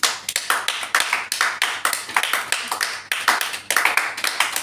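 A church congregation applauds together, a dense run of hand claps that keeps going steadily, with brief dips before rising again.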